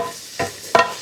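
Barberries being sautéed in a pan with slivered almonds and pistachios give two short stirring scrapes with a soft sizzle, close and alone with no talk.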